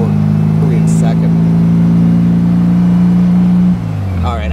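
A 1957 Porsche 356 Speedster replica's engine drones steadily at close range, then its pitch drops sharply as gears are shifted near the end, with a voice speaking over the engine noise.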